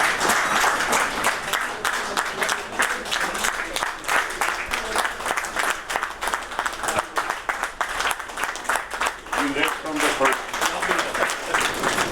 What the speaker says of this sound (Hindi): काबीना अरकान की तालियां बजाकर वज़ीर आज़म को मुबारकबाद।